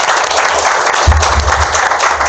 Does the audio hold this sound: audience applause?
yes